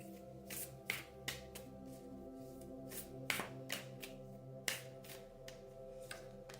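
Shamanic medicine cards are shuffled: a run of crisp, quick riffles and snaps, fairly quiet, over a soft steady hum with no voices.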